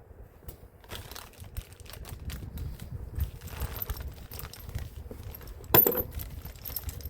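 Small M8 bolts tip from a bag into a box during a 1965 Ford Thunderbird rebuild, a close metallic jingling rattle that runs steadily and ends in a sharp burst of clatter.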